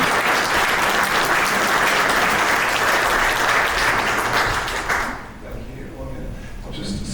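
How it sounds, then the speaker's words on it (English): Audience applause at a cybersecurity conference welcoming a company CTO to the stage, dense steady clapping for about five seconds that then fades into a quieter room. "Richard, give her a round of applause."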